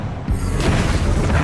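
A Bombarda blasting spell explodes in the Hogwarts Legacy video game, a dense, loud boom and crashing rumble that swells after a quiet start and sustains through the moment.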